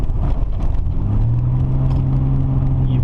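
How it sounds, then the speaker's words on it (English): A truck drives along a gravel road, a steady loud engine drone with rumbling road noise throughout, the engine tone rising slightly toward the end. "Today I'm going to be in the truck teaching you how to drive on gravel."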